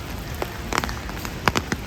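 Rain patters on an umbrella outdoors in Budapest, a steady close hiss broken by scattered sharper drops and taps, with no talking.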